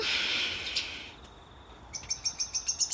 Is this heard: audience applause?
no